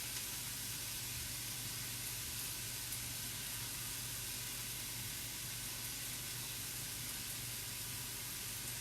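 Onions and tomato paste sizzle steadily in a hot pan, a dense, even hiss that holds at the same level throughout with no pauses.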